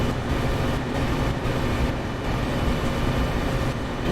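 A train in Train Sim World's American commuter and freight setting gives off a steady, broadband rumble with a constant rolling drone at an even level throughout, and no one speaks.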